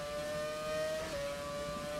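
An F1 car in a racing video game runs flat out at Silverstone, its high engine tone held steady with a slight pitch dip midway, continuous and fairly quiet over the short stretch.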